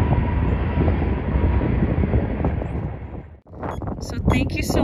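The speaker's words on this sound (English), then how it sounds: "Hey, Spirit, the train's coming through." A train rumbles past close by on Route 66 in Arizona in a dense, loud roar that drops away suddenly, then a person starts talking.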